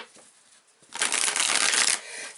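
A tarot deck is shuffled up close: a quiet rustle first, then a loud, dense riffling burst of cards lasting about a second.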